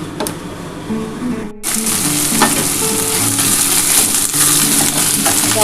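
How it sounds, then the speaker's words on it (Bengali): Okra dropped into hot oil in a pan: a loud, dense sizzle bursts in after a brief pause and keeps crackling steadily close by. "বন্ধুরা দেখো আমার তেলটা গরম হয়ে গেছে এবার দেখো আমি এই ভেন্ডিটা দিয়ে দিচ্ছি"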